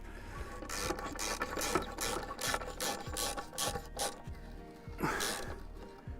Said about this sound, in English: We're just in the process of screwing them in now with a ratchet.